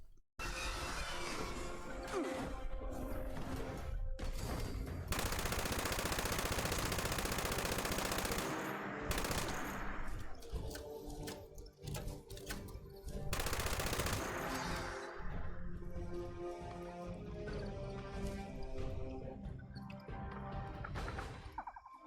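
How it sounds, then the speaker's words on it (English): Rapid LMG fire in a video game, aimed at flying Scorch Beasts, rattles in long loud bursts with brief pauses between, mixed with crashing impacts and game effects. "we will first be testing the LMG on a few flying Scorch Beasts"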